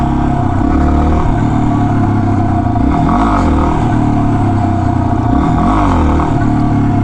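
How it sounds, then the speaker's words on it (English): A Yamaha XT250 motorcycle engine runs loud and close, then revs hard in two rising surges while accelerating for a wheelie. "For the hell of it, I'm going to try to pop a wheelie here."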